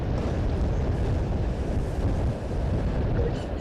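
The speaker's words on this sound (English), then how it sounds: "It is the rain coming out of the gutter next to my office." Rainwater pouring from a gutter beside an office, a steady, heavy rushing roar close by with no pauses.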